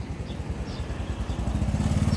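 Honda Wave 100 motorcycle fitted with an orange tuning box, its engine running close and steady with a pulsing low throb that builds slightly louder toward the end, with no one talking.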